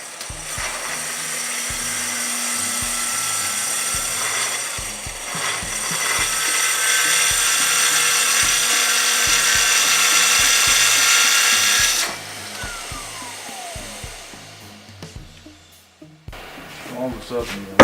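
Festool TS track saw cutting wood with dust extraction running, a loud steady whine for about twelve seconds that then stops, followed by scattered knocks and handling sounds.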